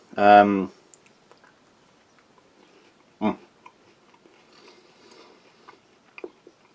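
Someone bites into and chews a crispy, crunchy chocolate brownie with rice crispies from a Norwegian Arctic field ration, giving a few faint close crunches and ticks in near silence after a short burst of talk.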